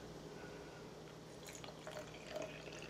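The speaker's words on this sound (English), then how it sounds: "So what I'm going to do is pour the water" Water pours into a plastic glue bottle while homemade matte Mod Podge is being made, a soft, steady liquid trickle with faint drips and splashes, quiet and continuous with no talking.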